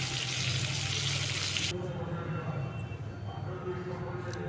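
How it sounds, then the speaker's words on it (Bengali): Tomato chutney with panch phoron spices and coriander leaves sizzles steadily in a hot pan; the bright frying hiss is strong at first, then drops to a softer, lower bubbling with faint kitchen clatter. "এ ফাঁকে টমেটোর চাটনিটা করে ফেললাম পাঁচফোড়ন দিয়ে টমেটো আর ধনে পাতা"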